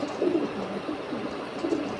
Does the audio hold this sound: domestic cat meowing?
no